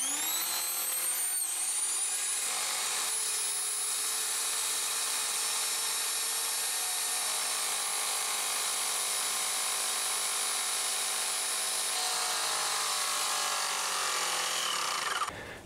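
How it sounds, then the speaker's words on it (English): A Graco X5 airless power painter runs while being primed at a barn build, giving a steady, loud mechanical whine with high tones that holds evenly for about fifteen seconds and stops at the end. "I got my Graco X5 power painter, and I'm going to see if I can get it primed up here."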